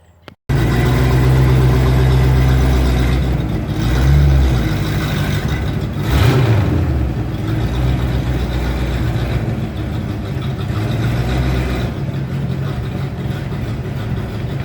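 A rusty Ford Fox body Mustang rumbles steadily as it pulls into a garage, a loud close engine drone with a slight throttle swell midway and no talk.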